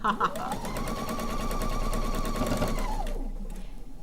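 A domestic sewing machine runs a quarter-inch seam on quilt pieces, one continuous close whir for about three seconds that slows and stops, with brief handling sounds before and after.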